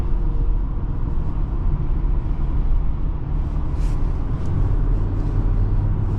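A 2024 BMW X4 M40i SUV cruising in comfort mode, a steady low road-and-engine rumble filling the cabin at even volume throughout, with no speech.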